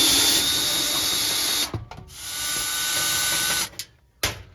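A power drill backs 1/4 inch screws out of a gas oven cover, whirring loudly and steadily in two long runs with a brief pause between them and a short final burst, with no talking.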